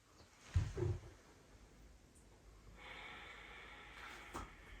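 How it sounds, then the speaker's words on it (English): A deep breath taken during a short yoga flow for runners: one close, forceful inhale and exhale near the start, then quiet room tone and a faint hiss. "One last breath."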